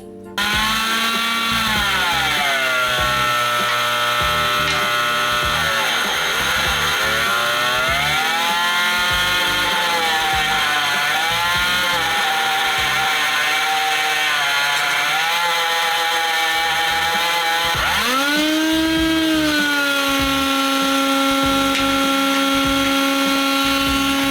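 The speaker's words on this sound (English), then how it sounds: "I'm just gonna get one of the wire brushes for this thing, and I'm gonna give it a full sand" A power tool fitted with a wire brush grinds against a stuck spool with a loud, continuous whine whose pitch dips and rises as pressure changes, close and alone.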